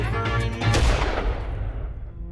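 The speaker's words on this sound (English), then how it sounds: "We wake up with these piercing, close gunshots." A sharp, piercing gunshot cracks close by during an expedition in Kyrgyzstan, followed by a long booming echo that fades out over two seconds.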